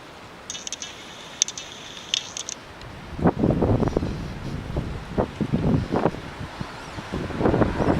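Strong gusts from a wind storm buffet the microphone in loud, rumbling bursts that grow heavier and more frequent after a few seconds, following faint scattered ticks at the start.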